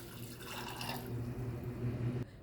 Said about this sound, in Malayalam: കുതിർത്ത കടലയുടെ 1 കപ്പ് വെള്ളം ഒഴിക്കാം